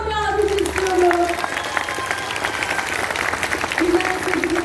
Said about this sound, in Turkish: Azer'in için şöyle kocaman bir alkış istiyorum